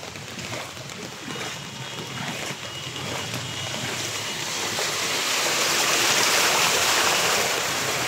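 Floodwater rushes along a street in a steady broad whoosh that grows louder toward the end, heard close and continuous.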